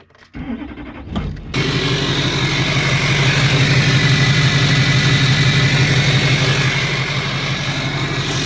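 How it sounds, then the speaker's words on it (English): A Duramax diesel truck whose exhaust dumps straight out the downpipe cranks and fires. A short starter whir gives way to a loud, steady, rumbling idle that holds to the end, with no voices. "She's still dumping out the downpipe, so there's not much great sound happening"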